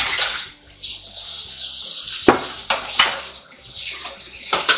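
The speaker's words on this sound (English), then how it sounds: "I'm going to go ahead and put them over there in the sink of water." Tomatoes being dropped into a kitchen sink full of water while making ketchup, giving a run of close splashes and sloshing with light clinks between them.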